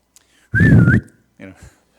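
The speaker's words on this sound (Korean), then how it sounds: "이럴 때는 제가 휘파람을 싹 봅니다." A single clear whistled note from a man during a church sermon, rising and wavering for about half a second, followed by a short soft voiced sound.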